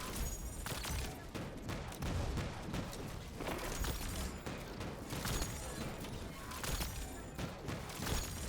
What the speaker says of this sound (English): from this location, you can basically just spam your bow shots